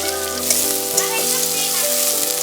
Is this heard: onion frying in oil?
yes